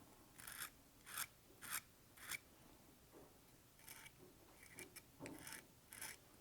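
Treble fishing hooks are drawn across a Rapala hook sharpener in short, quiet rasping strokes, about ten faint scrapes in an uneven rhythm, heard alone and close.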